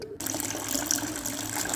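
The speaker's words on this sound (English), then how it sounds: "I love the sound of water." A tap runs steadily at 5 a.m., water splashing into a sink in a continuous close rush that starts abruptly after a brief pause.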